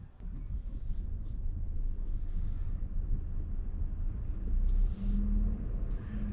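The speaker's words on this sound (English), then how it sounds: "we are leaving the dealership here in this Enclave ST" 2026 Buick Enclave ST pulling away from a dealership, a low steady engine and road rumble from inside the cabin, with a brief swell of noise midway.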